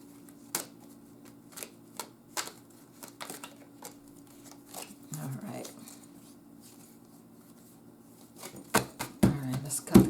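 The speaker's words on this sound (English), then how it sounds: "Let's cut the cards." A deck of cards is shuffled and handled, giving scattered close taps and clicks. Brief riffling bursts come near the middle and again toward the end over a low steady hum.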